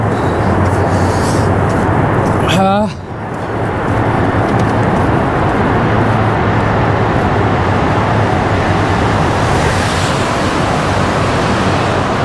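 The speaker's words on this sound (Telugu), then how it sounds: "ఓకే, కారు పోతే అట్లుంది." A car passes through a road tunnel in Japan, heard from a bicycle inside it, as a loud, continuous roar that fills the tunnel, with a brief sharp whine partway through.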